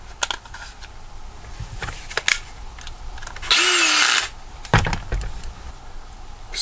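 A power tool drives screws back into the cover of a DIY Kobalt 24V cordless LED flashlight in one short, loud whirring burst, surrounded by small handling clicks and taps.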